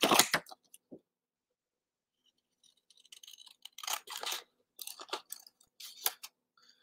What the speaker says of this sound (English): And these are not my favorite scissors for this, but that's okay.